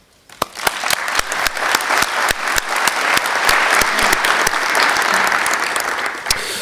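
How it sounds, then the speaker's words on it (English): A conference audience applauds the speakers at the end of a session, with sharp claps that swell quickly into sustained loud clapping before easing off slightly. "Big applause, please."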